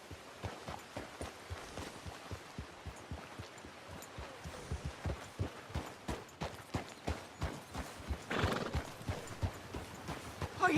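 Steady clip-clop of a horse's hooves from Red Dead Redemption 2, a rhythmic trot of sharp, close hoof strikes through leaves and muck, with a brief whinny or louder burst near the end.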